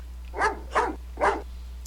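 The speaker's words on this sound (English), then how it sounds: "There's a dog here, so you can't do anything yet." Three spaced barks from a dog in the adventure game Phantasmagoria, loud and close over a steady low hum, with no speech.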